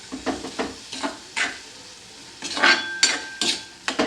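Carrot halwa with sugar is stirred in a pan over a low flame, a spoon scraping and clinking in irregular strokes over a faint sizzle, with a brief quiet stretch midway.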